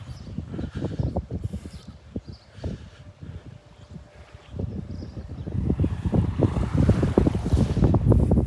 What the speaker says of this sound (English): The wind is definitely starting to pick up.